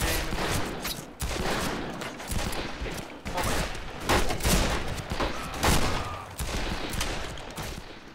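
Rapid gunfire in the Western shooter Fistful of Frags with a lever-action rifle and a double-barrel shotgun, sharp cracks going off steadily over eight seconds, loud and close with a busy ambient bed between shots.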